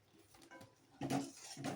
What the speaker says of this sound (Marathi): आता हलवून घेऊन आपण झाकण ठेवूया